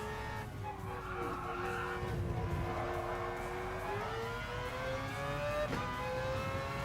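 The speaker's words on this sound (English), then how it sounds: "I love the way it just keeps revving and revving and revving" Mazda RX-Vision GT3 concept race car engine in Gran Turismo Sport, revving repeatedly with rising and falling tones, a rotary-style whine climbing through gears against a bed of tyre and road noise.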